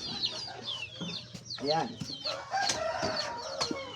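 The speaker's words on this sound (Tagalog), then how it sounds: "Ito pong ating mga alagang pato at manok na mga adult" Adult chickens and ducks on a small backyard farm make repeated clucks and squawks with occasional quacking, close and lively, while someone talks over the flock.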